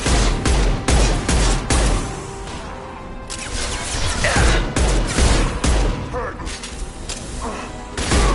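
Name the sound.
gunfire in combat, Mass Effect 2 video game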